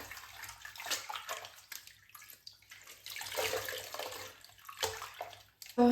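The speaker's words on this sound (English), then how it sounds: "I'm gonna go ahead and dip it into the water and get it all rinsed out." A blue lace front wig is dipped and rinsed in a basin of water, giving close sloshing, splashing and gurgling that swell and fade in uneven bursts with short quieter gaps between.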